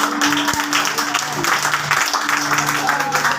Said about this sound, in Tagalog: Yan po ba yung palakpak para po sa Diyos?